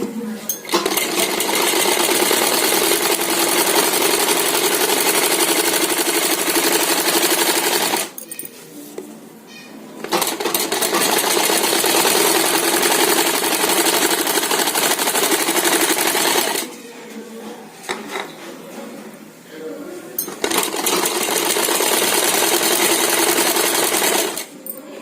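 Sewing machine stitching the front panel of a suit made from an old saree, running in loud continuous bursts of about eight and six seconds separated by short pauses.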